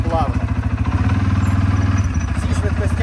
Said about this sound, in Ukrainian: Стартує квадроцикл реально